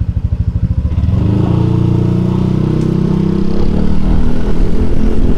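A Yamaha NMAX Turbo scooter fitted with a Prospeed Standard Racing exhaust pulses at idle, then revs up into a loud, sustained, throaty drone close by.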